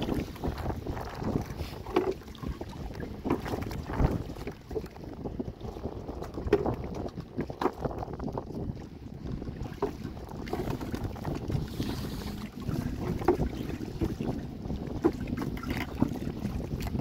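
Strong storm wind gusts across high floodwater near a small boat. The roar is steady, broadband and rumbling, with buffeting microphone noise throughout and no speech.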